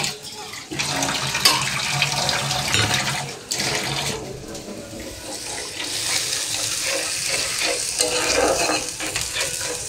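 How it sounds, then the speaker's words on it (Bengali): Food sautéing in oil in a pan at home, a dense continuous sizzle and crackle with stirring scrapes, close and fairly loud, with a brief dip partway through, no voices. "কষাইতে থাকি। কষা তেলের উপরে উঠলে তারপর আমি ওই দিয়ে দিব।"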